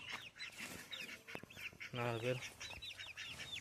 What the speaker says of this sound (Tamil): கோழி குஞ்சுங்க இங்கே இருக்கும்.